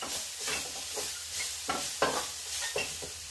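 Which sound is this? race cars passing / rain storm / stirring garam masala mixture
stirring garam masala mixture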